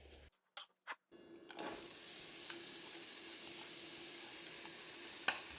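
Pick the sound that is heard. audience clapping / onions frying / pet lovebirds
onions frying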